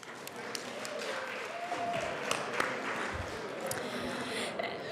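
Applause fills the Colorado House chamber during a legislative day, a steady, moderately distant patter of many hands that holds for the whole stretch without a break.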